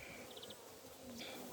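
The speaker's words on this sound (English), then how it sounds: "We've got wall-to-wall bees here." Honey bees crowd an open brood box in a beehive, giving a soft, continuous buzzing hum with a few brief higher whines from individual bees flying close by.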